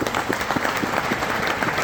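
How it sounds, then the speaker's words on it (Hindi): Loud applause for Mahavir ji and Sanjeev sir fills a direct-selling business event in Nainital, Uttarakhand: a dense, steady wash of many hands clapping from a crowd, with no voices on top. "मैं चाहूँगा इनके लिए जोरदार ताली होनी चाहिए।"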